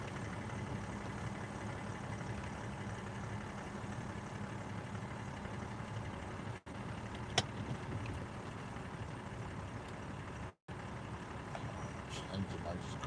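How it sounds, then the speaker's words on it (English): A car engine idles at a steady low hum, running continuously and faintly in the background, with two short dropouts and no clear speech over it. "So apologies if you can hear my engine"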